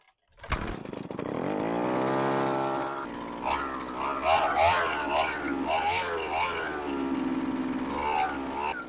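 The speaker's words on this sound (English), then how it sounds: "we're going to get the auger started like we normally would for a regular day out on the ice" Eskimo Stingray S33 ice auger engine on the ice, pulled to life then held at a loud, steady buzzing idle before revving up and down, close by, with a voice briefly heard over it.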